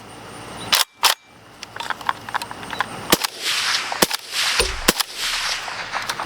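Supersonic rounds fired through a Resilient Putnik suppressor, several sharp cracks at uneven intervals, some close together, each with a short ringing tail over outdoor background noise, with no talking.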